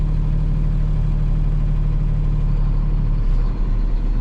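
A fire truck's large diesel engine idles steadily with a deep, constant hum, its tone shifting slightly near the end as the water pump engages.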